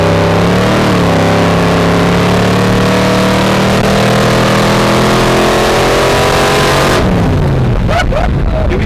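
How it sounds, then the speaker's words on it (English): Loud, sustained engine roar from a 1957 Gasser during a quarter-mile burnout wheelie, a steady revving drone with rising harmonics that cuts off into rough rumble and noise near the end. "we just did a quarter-mile burnout wheelie"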